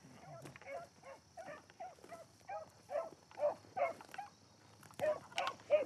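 Beagles bay in a steady run of repeated, moderately distant yelps and howls while chasing a rabbit in the field, with a faint steady hum in the background.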